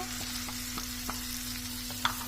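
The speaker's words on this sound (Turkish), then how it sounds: "1-2 diş sarımsağı rendeledik. Tavamıza aldık. Bir, biraz yağla kavuruyoruz." Grated garlic sautés in a little oil in a pan, making a continuous, even sizzle with faint ticking stir sounds throughout.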